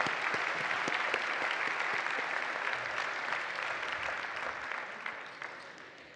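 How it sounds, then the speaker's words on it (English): A commencement audience at the American University in Cairo's June 2025 graduate ceremony bursts into sustained applause, a dense wash of many hands clapping at steady volume before gradually thinning toward the end. "We can clap."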